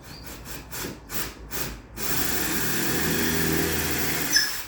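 A power drill drives a screw into wood: a few rhythmic grinding pulses give way to a steady, close whirring drone that ends with a small squeak.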